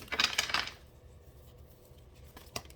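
Two affirmation cards slip out of a deck during shuffling, making a brief close clatter of card stock, followed by quiet and one small tap near the end.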